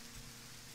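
Rain falls steadily outdoors as a soft, even hiss of drops with no breaks, faint and unaccompanied by any voices.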